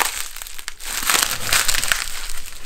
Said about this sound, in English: Do we want to unwrap all this stuff?